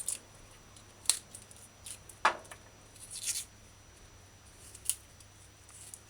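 Garlic being trimmed of brown, spoiled spots during stir-fry prep, heard as a few sparse, sharp snipping clicks spaced a second or so apart against near silence.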